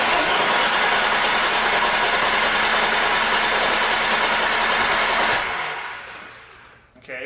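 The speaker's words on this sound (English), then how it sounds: "when I go to crank this thing, I got to crank it for about 5 to 10, well usually 10 to 15 seconds when it's cold before it'll finally start" A classic daily-driven BMW engine cranking cold and slow to start, a loud, steady mechanical roar that holds for about five seconds, then tapers off and falls quiet near the end.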